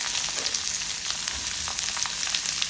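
Sliced onions and dried chillies fry in a pan for chutney, giving a continuous soft crackling sizzle at low, even level with faint scattered pops.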